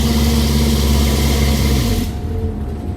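An MCI5 coach's diesel engine rumbles loudly as the jake brake cuts out near idle, with a steady droning tone that drops in pitch and eases to a quieter idle in the final second.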